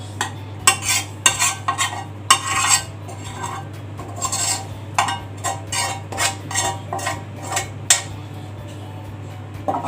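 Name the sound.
spreading noodle and beef layer for macaroni bechamel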